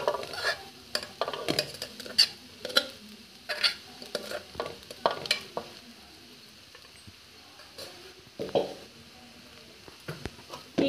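Cooked rice being stirred into a light masala in a pan for egg rice, with scraping and stirring clatters of a spoon against the pan over a soft sizzle, irregular and close, without talk.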